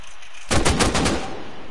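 Burst of rapid gunfire in the survival game Rust on a beach, a loud close volley of several quick shots lasting under a second, then a decaying rattle and echo.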